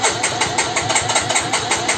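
A Yamaha motorcycle engine, after repair of an ignition fault, chugs and turns over in a quick, pulsing rhythm, loud and close, running steadily without any voices.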